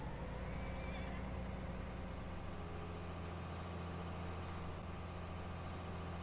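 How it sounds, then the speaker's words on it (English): Case IH Steiger Quadtrac articulated tractor in Farming Simulator 19 fires up and settles into a steady, loud, low engine drone that fills the whole stretch without talk. "Let's fire this bad boy up."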